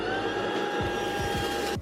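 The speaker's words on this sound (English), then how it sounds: "I'm going to put the new vacuum to the test and see how it does" A Tineco S11 cordless vacuum cleaner runs steadily at close range with a high, even motor whine, picking up debris from carpet, with a few brief dips and shifts in tone.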